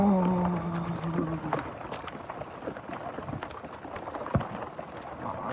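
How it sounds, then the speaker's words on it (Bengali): Heavy rain and wind during a night storm while fishing, a steady dense hiss of rainfall with gusty texture throughout and a brief tonal hum at the start, no talking. "কলকলিয়া বৃষ্টি ঝুমঝুমে বৃষ্টি তার সঙ্গে আবার হাওয়া"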